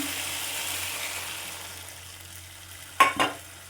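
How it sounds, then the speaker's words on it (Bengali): Yogurt masala for a catla fish curry sizzles and fries steadily in a pan, fading gradually, then water poured in sets off two sharp, loud hissing bursts near the end, close up with no talk. "জল দিয়ে দিলাম পরিমাণ মতন জল দিলাম"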